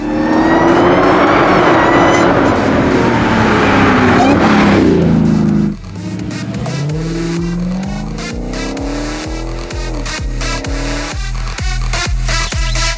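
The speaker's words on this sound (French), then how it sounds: "Regardez, le moteur, c'est une bête." A Dodge Challenger Hellcat Red Eye roars hard under full acceleration on the road, then shifts and climbs through the revs again with a rising whine, loud and close, with brief talking buried under it.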